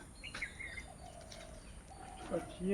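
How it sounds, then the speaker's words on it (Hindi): Birds call softly in a quiet forest at Rajabarari, with a few brief chirps and tonal whistles scattered over faint background hiss, some coo-like notes near the end. "आवाज़ आई पक्षियों का"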